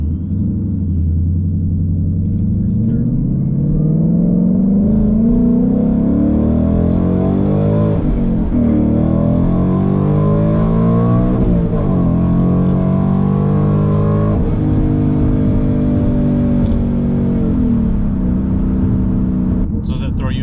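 A ProCharged Ford Mustang accelerates hard, engine pitch climbing through repeated gear changes, loud and continuous from inside the car, with voices talking over the roar.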